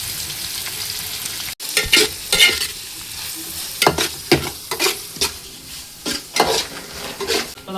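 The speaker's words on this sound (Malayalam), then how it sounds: "നമുക്ക് സവാള ഒന്ന് വഴറ്റിയെടുക്കണം" Sliced onions sauté in oil and beef fat in a pan for beef biryani, a continuous sizzle broken by repeated scraping and stirring strokes of a utensil, close and fairly loud, with no voices.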